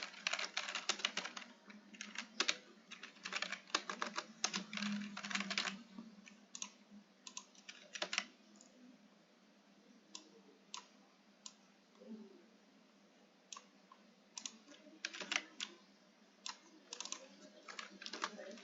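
Rapid keyboard typing while book records are entered into a library data system, clicks coming in dense bursts with brief pauses, close and fairly quiet, no talk.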